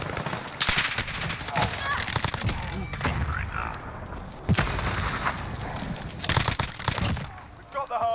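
An Uzi submachine gun fires in Call of Duty: Modern Warfare (2019). Loud, rapid bursts of gunfire repeat over continuous game battle noise.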